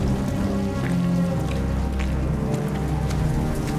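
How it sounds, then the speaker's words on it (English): Steady rain falls in a TV drama scene, a continuous dense patter with a low rumbling bed and tonal music-like hum underneath, loud and unbroken throughout with no speech. "It's like raining."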